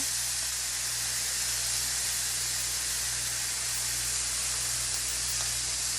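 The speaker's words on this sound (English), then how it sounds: "I'm going to put skin side down because that's what I want to get nice and crispy" Chicken thighs searing skin side down in a cast iron skillet give a steady, broad hiss like steam, constant and fairly loud with a low hum beneath, no talking.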